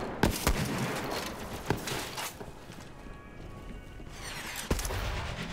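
Gunfire in the video game Borderlands 3 comes as a few sharp, separate shots spread over several seconds, moderately loud above a muffled game background, with quieter gaps between them.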